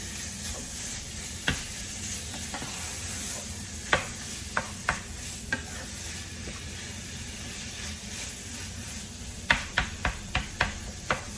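Minced beef frying in a pan with onions, steady sizzle under repeated sharp scrapes and clacks of a spatula stirring, clustered near the end.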